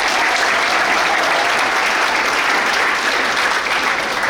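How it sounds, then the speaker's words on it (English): Steady, dense applause from an audience honouring a guest speaker at a stand-up award event, sustained and loud throughout with no break. "So give yourself a round of applause."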